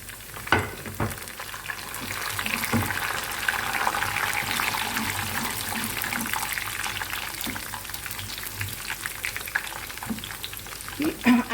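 Curry leaves and round red chillies sizzle in hot oil in a pan for Pakistani masala khichri, a steady close frying crackle with stirring clatters, a voice talking faintly over it.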